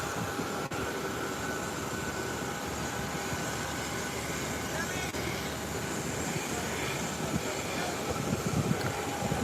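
An aircraft makes a short takeoff, a steady, broad engine roar heard from a distance that holds at an even level throughout, with no voices.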